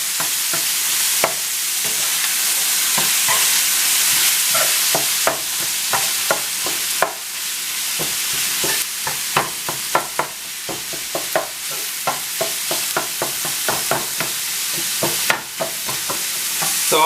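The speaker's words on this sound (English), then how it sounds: "So I'll keep chopping and cooking," Meat sizzles steadily in a hot pan while a spatula clacks and scrapes repeatedly, chopping and stirring in an irregular rhythm, cooking chopped cheese sandwich filling.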